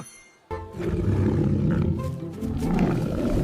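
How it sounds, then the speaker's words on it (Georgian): A lion lets out a deep, rumbling roar that starts abruptly and holds loud and close for several seconds. "ლომი"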